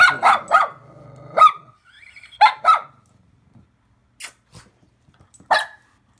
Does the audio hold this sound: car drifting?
no